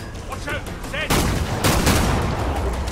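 Gunfire in the video game Killing Floor 2: bursts of loud shots starting about a second in, continuing densely to the end, with faint speech-like sounds before.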